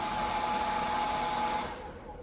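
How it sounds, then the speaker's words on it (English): A hair dryer powered by a Bluetti AC60 portable power station runs steadily with a high whine and broad airy hiss, then its level drops slightly near the end as it keeps blowing. "the fan on the blow dryer sounds like it hasn't really changed speed"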